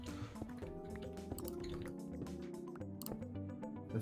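A Minecraft water bucket is emptied in a multiplayer survival match, giving a short watery pour with drip-like splashes and small clinks, quiet and isolated.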